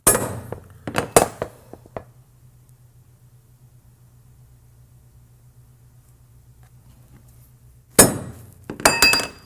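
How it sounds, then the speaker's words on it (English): A few sharp metallic hammer taps on a center punch into a tubular upper control arm ring out at the start, then a long quiet hum, then another cluster of hard clinking strikes at the end. "what I want to do is I want to center punch this first, okay?"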